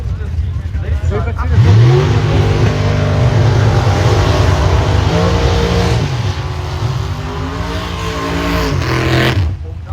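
Drag racing car on the strip at a German event, a loud, sustained engine roar that climbs and holds in pitch, dips briefly, then rises again before cutting off near the end.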